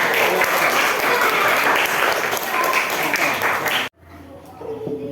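Schoolchildren applaud in an Indonesian classroom during a lesson on Abu Bakar Ash-Shiddiq, filling the room with loud, steady clapping and some chatter that cuts off abruptly, leaving a quieter room with faint sounds.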